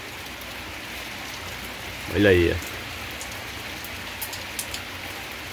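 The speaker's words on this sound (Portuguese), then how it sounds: "Muita chuva." Heavy rain pours steadily in Joaquim Gomes, Alagoas, a constant dense hiss of drops on surfaces, with someone briefly speaking over it and a few sharper drips toward the end.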